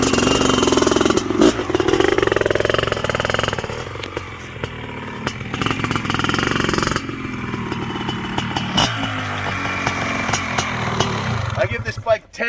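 A pristine 1997 Honda CR500R big-bore two-stroke motorcycle launching hard from a holeshot, its engine blaring loud and close and climbing through the revs with wind rush, while a rider's voice talks over it.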